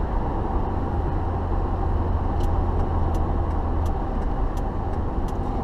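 A 2004 Ford Police Interceptor running at speed, with a steady, loud engine drone and road rumble filling the cabin throughout and a few faint clicks near the end.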